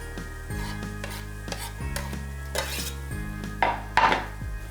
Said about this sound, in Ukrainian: обсмажуємо, поки стебла селери не стануть м'якими